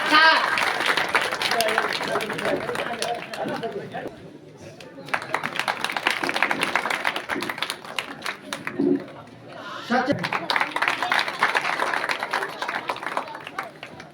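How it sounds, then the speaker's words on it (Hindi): Audience clapping at the opening of a fair in Budaun district, Uttar Pradesh, steady and dense across the crowd, dipping briefly a couple of times, with a voice speaking over it. "तालियां बजाएं"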